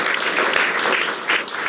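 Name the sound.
studio audience applause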